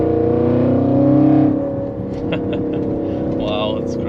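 Audi RS6 Stage 2 tuned to 750 hp with a Milltek exhaust, accelerating: a loud, steady engine drone that swells for over a second, then eases and holds, with a voice speaking over it.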